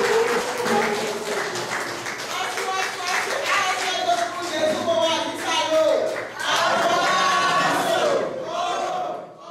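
Applause and crowd noise for two honorees at an association tribute ceremony, steady and loud throughout, with cheering voices mixed in.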